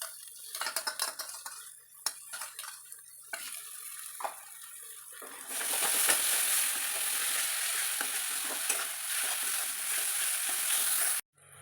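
Garlic paste, onion and chili paste hit a hot pan for a Bombay duck jhal fry: a few clinks of utensils come first, then a loud, steady, close sizzle that holds until the end.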